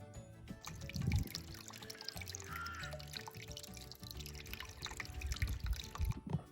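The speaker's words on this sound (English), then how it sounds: "my grandma has got a little fairy water feature in her garden now" A small fairy water feature in a grandmother's sunny garden trickles and drips steadily, a continuous soft splashing that runs throughout with a few louder dribbles.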